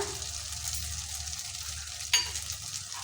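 A bowl of batter with an egg frying in a pan gives a faint, steady sizzle, broken by one sharp clink of a utensil partway through.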